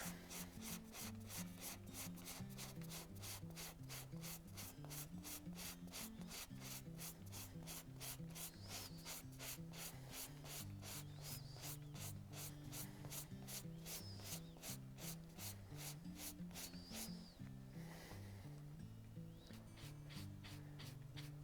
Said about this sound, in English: shaving it down, reducing some of the thickness, and getting rid of some of that membrane